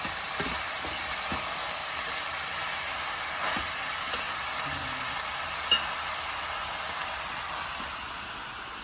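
Tomatoes and broad beans stirred in a pan, a soft, steady sizzle with occasional light scrapes and one sharp clink of the spoon, fairly faint and without speech.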